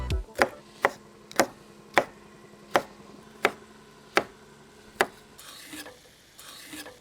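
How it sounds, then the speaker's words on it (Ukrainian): A knife slices through red sweet bell pepper on a board, giving about ten evenly spaced, crisp chopping knocks close up, followed by a softer rustle. "Нарізаємо солодкий перець."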